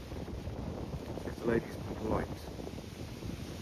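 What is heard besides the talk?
strong wind blowing into the microphone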